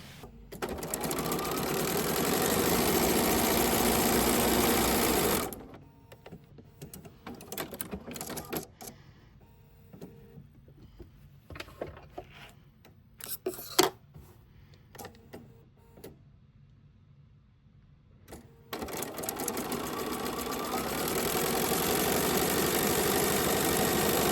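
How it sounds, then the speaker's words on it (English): A sewing machine runs steadily for several seconds while sewing quilt pieces, stops for a quiet stretch of small handling sounds, then starts stitching again at a fast, even pace. "I'm going to sew a 1/4 inch on each side of this line that I drew."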